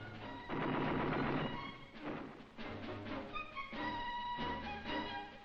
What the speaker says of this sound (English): Gunfire is a common sound along Israel's border settlements